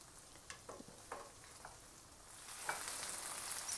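Chicken breasts sizzle softly in a frying pan, with a few sharp crackles and spatters rising to a steadier, brighter hiss toward the end; no voices.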